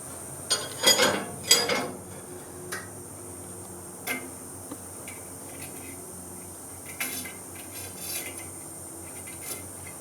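A CBN grinding wheel barely touching a 2mm pin gives scattered light ticks and short metallic scrapes, a few clustered near the start and then sparse faint contacts over a quiet background hiss.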